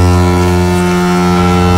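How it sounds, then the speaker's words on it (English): A ship's foghorn sounds on the coast before a kayak crossing to Kangaroo Island, a single loud, deep, unbroken blast with rich harmonics that holds steady throughout. "When this foghorn sounds, we"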